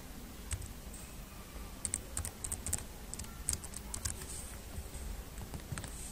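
A password is typed on a computer keyboard. Soft, irregular key clicks come in short bursts, faint but close, over a quiet background hum.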